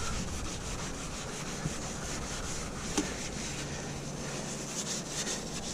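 Steady scratchy rubbing as a brush or pad scrubs paint off metal, continuous and close with a few small knocks.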